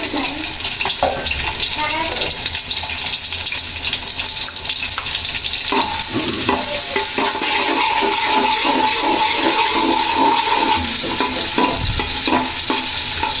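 Onions frying in a pot for pilau, a steady loud hiss and sizzle with stirring scrapes running throughout, heard close up, with faint voices in the background.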